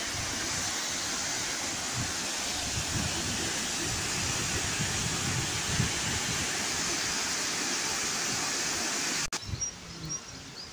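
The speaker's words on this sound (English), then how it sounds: "Big, loud waterfall." Big, loud waterfall roars as a steady, dense rush of falling water, close and constant with no pauses, with faint bird chirps over it before a brief handling bump near the end.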